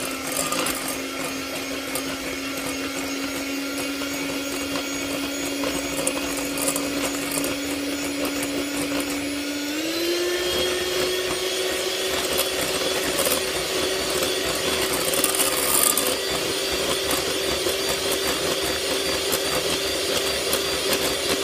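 Electric hand mixer beating apple cake batter with dried fruit, a loud continuous motor whine with rattling beaters that shifts up in pitch midway as the speed is changed, running steadily with no talking.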